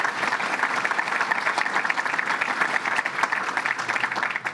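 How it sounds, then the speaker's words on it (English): A crowd applauds steadily at a public announcement inside a fire department hall, the dense clapping holding an even, full level from start to finish with no pauses. "let's give them a round of applause and thank them"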